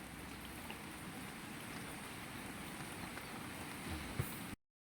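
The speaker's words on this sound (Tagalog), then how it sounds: "Hindi makalabas, ang lakas ng ulan." Dense, steady rain hisses heavily on surfaces, a constant wash of sound with no voices, cutting off abruptly near the end.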